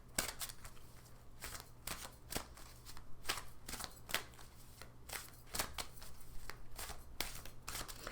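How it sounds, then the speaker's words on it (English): Oversized Mystical Wisdom tarot cards are shuffled by hand, a quiet close series of riffling snaps and flicks in irregular bursts, alone with no talking. "They're a little too big for me to shuffle with my hands."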